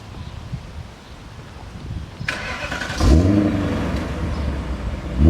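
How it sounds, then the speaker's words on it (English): A 1999 BMW E39 540i with a 4.4-liter V8 and a deleted muffler, heard from behind as it starts: a sharp catch, then a loud, deep burbling idle that continues steadily over wind and rustling. "Hear the muffler delete."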